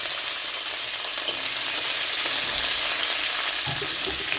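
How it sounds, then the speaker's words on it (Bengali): Onion, capsicum and tomato in hot oil for chilli paneer make a loud, unbroken sizzle close to the pan, with a faint scrape now and then and no voices. "তেল গরম হয়ে গেছে, এখন দিয়ে দিলাম পেঁয়াজ, ক্যাপসিকাম এবং টমেটো"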